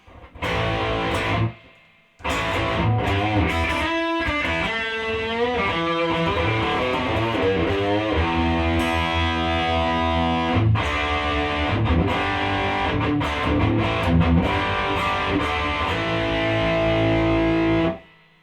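Distorted electric guitar played through an MXR EVH 5150 overdrive pedal with gain at halfway, running into a Fender Hot Rod Deluxe amp from an LTD EC-1000, with loud sustained chords and riffs after a brief opening phrase and pause.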